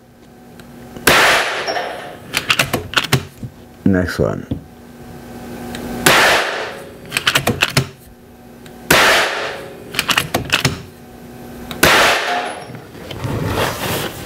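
Repeated rifle shots on exploding target pellets, each a sharp crack with a small burst, coming in loose pairs and clusters every couple of seconds, with a few spoken words between shots.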